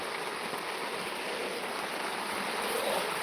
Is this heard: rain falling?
yes